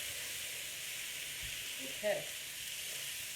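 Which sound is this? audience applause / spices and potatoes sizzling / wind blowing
spices and potatoes sizzling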